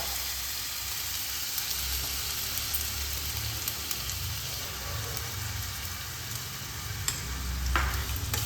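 Ginger, garlic and green chili paste fries in hot oil with onion paste for a Bengali katla fish kalia, giving a steady, close sizzle and hiss with occasional scraping stirs and no talk.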